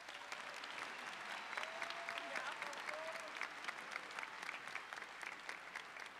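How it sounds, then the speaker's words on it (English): Graduation ceremony audience at Gas South Arena applauds in a big, steady roar of clapping that fills the hall, with faint voices and a few whoops mixed in. "Please give them a round of applause."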